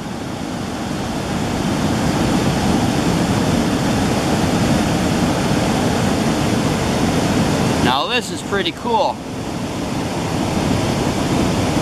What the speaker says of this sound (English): I just noticed the water coming down the rocks right there